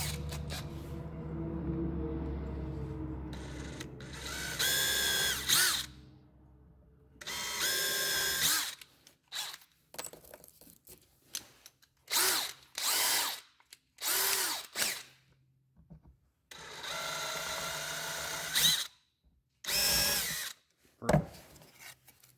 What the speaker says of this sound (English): I'm going to go ahead and drill the holes through there.